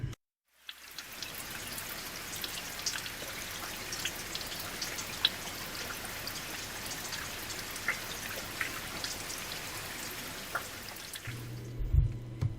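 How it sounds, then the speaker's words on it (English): Steady rain patters and drips continuously at an even, moderate level, with no voices; any thunder is not clearly distinguishable. "They quietly listened to the rain and distant thunder outside."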